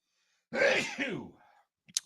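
A single close sneeze bursts out and trails into a breathy tail, followed by a brief faint sniff or click, with no talking.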